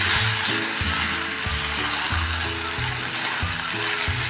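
Spiced cluster bean and tomato masala sizzles in a pan while a spoon stirs and scrapes repeatedly in an uneven rhythm, the frying hiss steady beneath close, clattering strokes.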